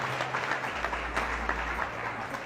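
Audience applause for finalists at a modelling contest evening, steady mid-distance clapping with scattered sharper claps over a low rumble of music.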